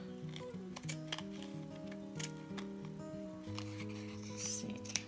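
Scissors trim a paper card with a few crisp, quiet snips, close by, over soft background music.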